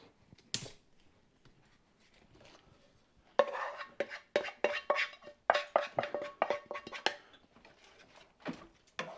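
A utensil scraping Cajun turkey drippings out of a pan, a run of quick metallic scrapes and clinks after a quiet opening, close and fairly loud.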